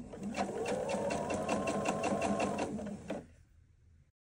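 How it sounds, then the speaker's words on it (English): Sewing machine stitching a 1/4 inch seam around the edge of a handmade bag with fusible fleece, a steady close mechanical whirring hum with rhythmic needle ticks that stops abruptly after about three seconds. "I'm just going to work on sewing around the edge"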